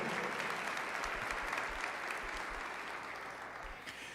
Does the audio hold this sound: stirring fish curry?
no